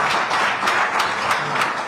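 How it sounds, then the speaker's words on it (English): Audience applause at a Lagos political address, a steady wash of many hands clapping with no break and no talking over it. "give them a round of applause"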